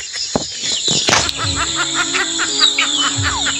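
Pet chickens and chicks cluck and peep close by, with short repeated calls, a brief burst of wing flapping and scratchy movement, loud and alone.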